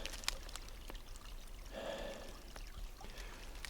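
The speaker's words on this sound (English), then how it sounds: "Got this beautiful creek flowing back here in the back of my property." A backyard creek on a property line flows with a soft, continuous pour and trickle, faint and steady, with a few light splashes and drips and no talk.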